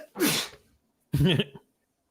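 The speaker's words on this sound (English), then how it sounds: "sneeze." Two sneezes in quick succession, close to the microphone and loud, with a short pause between them and silence afterward.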